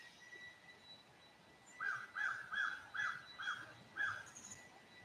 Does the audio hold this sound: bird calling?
yes